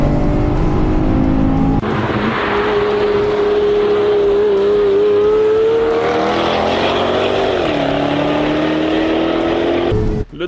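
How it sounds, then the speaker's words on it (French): An Aston Martin engine revs hard and steadily as it drives at speed around the Nürburgring, its pitch climbing and shifting with gear changes, loud and close throughout. "mon père a pu faire son premier tour du Nürburgring au volant de l'Aston Martin."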